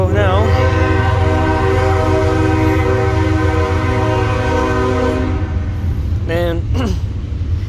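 CSX freight train passing, a loud sustained horn blast over the rumble of rail cars, then two shorter horn toots as it moves on.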